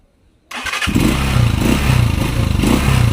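A motorcycle engine restarts abruptly after near-silence and settles into a loud, close, steady running rumble with some clatter, as it is shifted into first gear during a running clutch lining repair.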